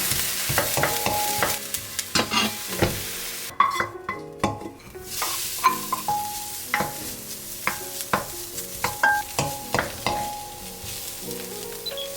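Chili peppers stir-fried with a little salt for vegetable dumpling filling, a continuous close sizzle broken by frequent sharp scrapes and clinks of the utensil against the pan, with no talk.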